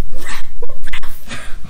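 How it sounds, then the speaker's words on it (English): A dog barks and yips in quick bursts, loud and close, with short whimpering notes between the barks. "can that dog just shush for at least 1 minute? And then the dog has to reply."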